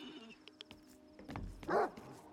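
Dogs in STALKER 2 give faint, scattered yips and one rougher bark near the end, set against a quiet background of game ambience with a few soft thuds.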